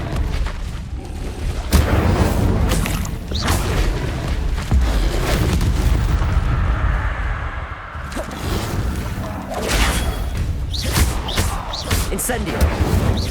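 Fire spell explosions from the video game Hogwarts Legacy: repeated heavy booming blasts with rumbling low end, spread across the stretch amid other spell effects and a voice calling out spells.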